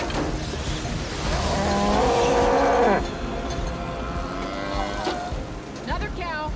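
A cow moos in a scene from the movie Twister, a long tonal bellow rising loud over rushing wind and storm noise, followed by further wailing cries and roaring gusts.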